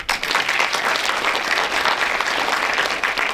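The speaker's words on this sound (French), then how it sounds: "On peut aussi applaudir." Sustained applause from an audience at a local Oscars-style award ceremony, thick and even clapping that holds steady at full strength for a few seconds.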